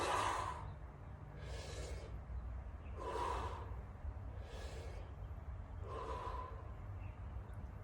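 Slow, deliberate breaths during an exercise demonstration, five soft airy inhales and exhales repeating in a steady rhythm, close and quiet with no talking.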